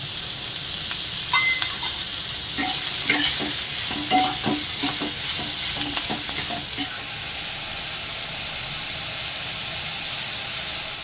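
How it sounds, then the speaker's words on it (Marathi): Chopped onions frying in oil in a pan for a Maharashtrian maswadi dish, a steady broad sizzle with a spoon scraping and stirring in irregular taps, close and alone with no talk. "कांदा परतण्यासाठी अजून थोडं तेल त्यामध्ये टाकू."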